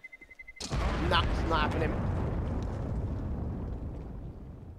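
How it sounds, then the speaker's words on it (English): A bomb detonates in a Counter-Strike match with a sudden loud roaring blast right after a short high beep, then a long rumbling tail while an excited commentator talks over it. "They may go up with the bomb explosion."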